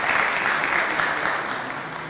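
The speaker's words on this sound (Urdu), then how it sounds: "زوردار تالیاں ہم سب اپنے لیے بجائیں" A small group of women applauds at a Women's Day celebration in Amersfoort, Netherlands, steady dense clapping that stays loud and even throughout, with no voices on top.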